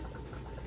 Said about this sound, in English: I know y'all can hear the water bubbling for the pasta.